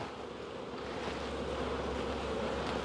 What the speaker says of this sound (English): the bees think that they're up here to make a new hive